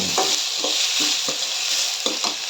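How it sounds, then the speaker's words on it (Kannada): Onion, onion greens and chilies frying for crab fry, a constant hiss of oil with regular stirring scrapes about twice a second, close and fairly loud with no talk. "ಉಳ್ಳಾಗಡ್ಡಿ ಸೊಪ್ಪು ಮೆಣಸಿನಕಾಯಿ ಹಾಕಿ ಫ್ರೈ"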